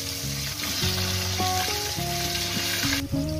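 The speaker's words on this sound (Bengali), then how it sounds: "আলুগুলো আমি লাল লাল করে ভেজে নেবো" Potato pieces frying in oil in a home kitchen, a dense continuous sizzle close by, with a tonal musical layer running underneath and no speech.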